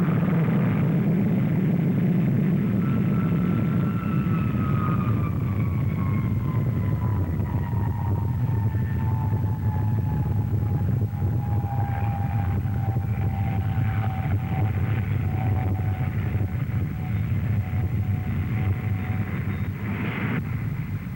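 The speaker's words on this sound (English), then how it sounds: "with a push like that, the great bomber soars up almost vertically" A large bomber powered by Olympus jet engines climbs almost vertically at the Farnborough air show, a loud sustained roar with a slowly falling whine as it pulls away.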